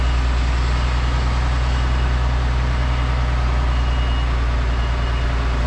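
A lorry with a headboard manoeuvres through a tight turn between fences and parked cars at night, its engine rumbling steadily and loud throughout, with reversing beeps faintly pulsing beneath the drone.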